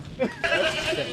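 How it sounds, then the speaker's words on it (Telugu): A sheep gives a short, wavering bleat, fairly close, over a little background noise. "గొర్రెలు వచ్చారు"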